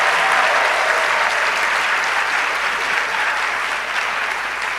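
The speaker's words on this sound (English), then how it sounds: "Just kindly ensure the applause does not die down." Sustained applause from an audience at a medical and dental practitioners' induction ceremony, a loud dense wash of clapping that holds steady and then eases slightly toward the end, with no speech over it.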